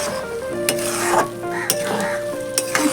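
Ash gourd and moong dal ghonto is stirred in a pan over low heat, with a soft steady sizzle and several sharp spatula scrapes and clinks against the pan. No one speaks.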